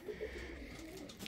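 Pigeons cooing softly inside a loft, a few low, rounded coos rising from a steady background hum, fairly close and without talk.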